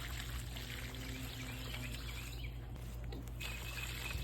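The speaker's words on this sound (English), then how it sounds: "Water it in some more." Water trickles and pours faintly onto the soil around a newly planted bare-root fruit tree, a quiet steady stream with soft bird calls in the background and no talk.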